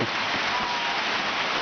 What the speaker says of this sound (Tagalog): Ayan, nabutan na kami ng ulan.